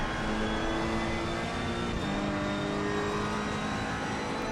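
A Ferrari race car engine in Assetto Corsa Competizione accelerating hard out of a corner at Barcelona, a loud continuous whine climbing steadily in pitch through the gears, heard close and alone.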